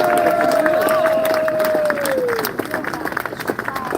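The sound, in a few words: crowd applauding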